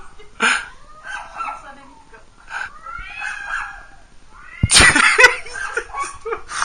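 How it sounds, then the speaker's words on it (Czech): A dog and a cat clash, with yowling caterwauls and meows mixing with short barks and a sudden loud burst of screeching near the end, while people talk and laugh over it. "nevím, jestli ten pes šuká kočku, nebo kočka toho psa"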